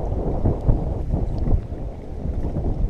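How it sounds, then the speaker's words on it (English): Wind blowing hard across the microphone while fishing from a boat, a steady low rumble with gusts and no talking. "it's just hard to cast in the wind"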